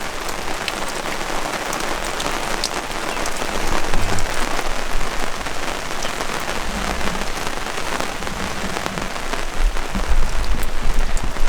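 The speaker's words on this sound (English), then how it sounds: "It rained all night last night and raining this morning." Heavy rain falling steadily outdoors in high country bush, a dense continuous hiss of drops drumming on surfaces, loud and close, with no pause throughout.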